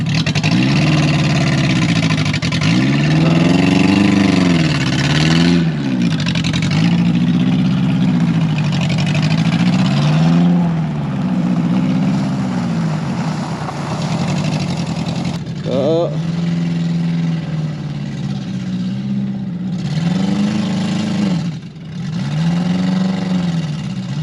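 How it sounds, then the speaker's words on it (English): A mini truck with a loaded dump bed strains at a guest house repair site, its engine revving and sagging in repeated labouring surges, loud and close, with voices now and then over it. "Mini truck does not sound happy."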